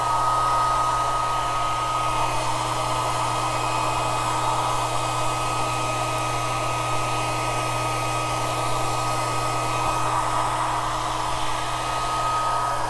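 Hair dryer blowing steadily on a clay cylinder, a loud constant whir with a steady hum that runs unbroken and alone from start to finish.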